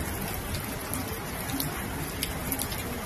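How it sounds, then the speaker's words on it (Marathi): Heavy rain pours onto a cement concrete road as a dense, steady hiss with faint patter of drops, continuous and even for the whole stretch. "एवढा पाऊस"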